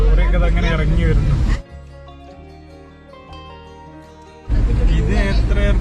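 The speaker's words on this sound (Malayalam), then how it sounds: "ലോറിയൊക്കെ അങ്ങനെ ഇറങ്ങി വരുന്നു." A lorry comes down a hairpin ghat road on the Pakramthalam pass near Kozhikode, its low engine drone and rumble holding steady for a few seconds between stretches of someone talking.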